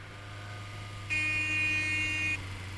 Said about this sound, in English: It does have a proper beep on it, unlike but not rather than a meep meep.